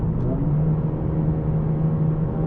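A 2024 Mercedes CLA 35 AMG coupe accelerating hard in a low gear from 80 to 130 km/h, heard from inside as a steady, dense engine drone and road rumble that holds constant throughout, with no talk.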